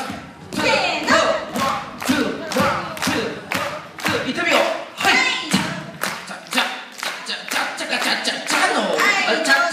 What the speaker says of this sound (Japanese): 手拍子お願いします